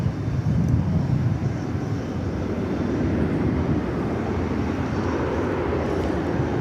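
A Japan Airlines Boeing 777 sits waiting on the taxiway near Terminal D at DFW Airport, its engines giving off a steady, low, continuous rumble at moderate distance, with no talking.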